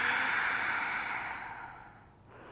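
A long, steady breath is exhaled through the mouth during a yoga flow, starting fairly strong and tapering off over a couple of seconds, close and alone with no talking.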